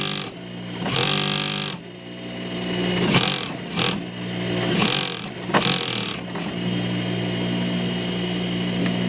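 A disused sewing machine being run, giving a steady mechanical drone with a humming motor tone that surges and fades in several bursts, close by, with a few clicks and knocks between runs.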